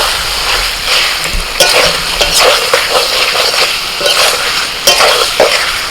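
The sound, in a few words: stir-frying potatoes and cauliflower with spices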